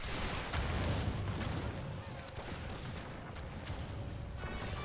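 Artillery fire in a Total War battle set in South America, heard as sparse, distant booms and cracks over a constant rumbling battlefield din, fairly faint overall.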